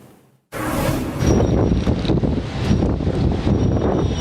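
Strong, dusty wind gusts of a Karachi windstorm roar against the microphone, a loud, continuous buffeting rush that starts abruptly and swells in repeated surges, with no voices.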